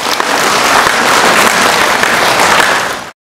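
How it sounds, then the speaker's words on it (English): Waves of loud, dense applause fill a room at a China–Thailand friendship event, sustained and close for about three seconds before cutting off abruptly. "Waves of applause filled the room."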